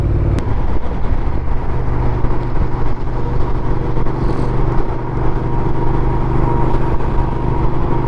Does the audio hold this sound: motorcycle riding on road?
yes